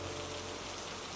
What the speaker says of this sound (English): A breeze began to pick up, and some rain started.